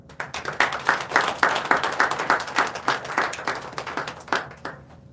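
Audience applause at a Gurpurab celebration held in a parliament building, a steady rhythmic clapping from a modest crowd that holds for several seconds and then thins out and fades near the end.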